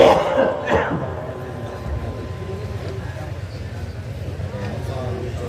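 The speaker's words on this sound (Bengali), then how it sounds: "কাশিটা তো বন্ধই হচ্ছে না," A preacher coughs during a Bangla waz sermon, with a couple of short, harsh coughs near the start followed by a steady low murmur of background noise.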